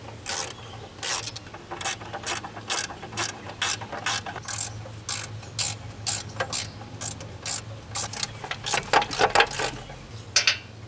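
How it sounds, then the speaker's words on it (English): A hand ratchet loosens the heat shield bolts on a Mitsubishi Lancer engine during engine removal, giving rapid, close, repeated clicking strokes in uneven bursts with no voices. "Now that I got the bolts off"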